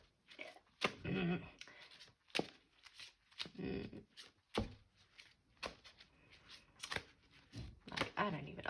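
Tarot cards shuffled by hand in short crisp riffling bursts at close range, alternating with quiet pauses and soft handling noises, in a quiet room.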